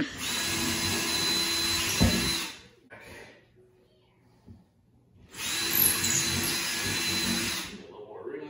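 A power drill whirs loudly for about two seconds while drilling reclaimed wood for a bathroom shelf, stops for a quiet pause with small knocks, then runs again for another long burst.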